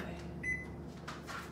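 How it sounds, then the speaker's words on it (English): A household microwave oven runs with a steady low hum, a brief beep-like tone sounding partway through, with faint clatter and no talk. "I need to turn this microwave off."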